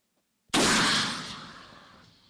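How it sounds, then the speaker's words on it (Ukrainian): A single sharp gunshot cracks loudly after a brief silence during a border guard training exercise, followed by a long echoing decay that rolls away outdoors. "Постріл!"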